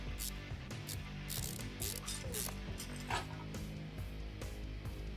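Repeated ratchet clicks and mechanical clatter from bolting car parts in Car Mechanic Simulator, a quick rhythmic ratcheting that keeps on steadily at a fairly low level, with no talk over it.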